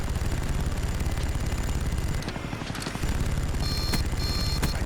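Gunfire in Call of Duty: Black Ops: a continuous dense roar of shooting and explosions, dipping briefly near the middle, with sharp electronic beeps near the end.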